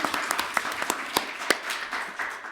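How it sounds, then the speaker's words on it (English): An audience at a school governing board meeting claps briefly: a sparse, uneven patter of individual claps from a small group, moderately close and fairly quiet, with no speech. "let's clap for that."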